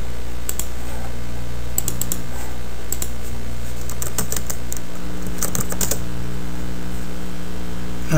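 Rapid clicking of keys on a computer keyboard, typed in short bursts with pauses between them, over a low steady hum in the room.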